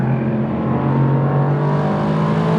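Mercedes-AMG GT R Pro driven hard through corners, its engine droning loudly and steadily at high revs from inside the car with no voices.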